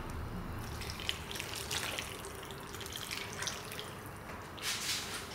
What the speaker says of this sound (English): next I'm gonna add in 1 cup of water. Hot water, boiling water.